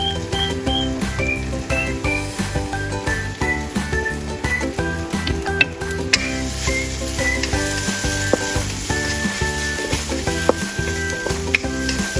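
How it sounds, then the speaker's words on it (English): Loud, steady sizzling of mushroom stems frying in a hot pan, with scattered scrapes and pops as they are stirred, close up and continuous throughout. "Start by stir-frying the mushroom stems until they release their aroma."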